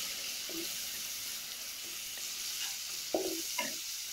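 Ginger garlic paste is stirred in a frying pan for an Idukki-style kappa biryani, a steady bright sizzle with a few soft spoon scrapes and knocks, close by and without speech.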